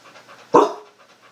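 A single short dog vocalization, a quick breathy bark or pant, sharp onset then fading, close and alone against faint background.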